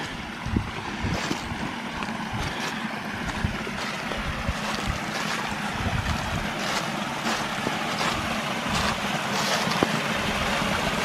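A small lower cascade in Bankhead National Forest, Alabama, gives a steady, broad rush of falling water, close and continuous, with a few faint splashes on top and no voices.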